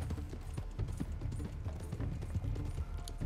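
Horse hooves galloping steadily at close range in Red Dead Redemption 2, a continuous clip-clop rhythm over game ambience with no talk.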